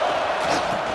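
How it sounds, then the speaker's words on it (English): Stadium crowd roaring in the College Football 26 video game, a dense, sustained wall of cheering that swells slightly without break for the full second. "Here comes second down, and this crowd is turning it up a notch."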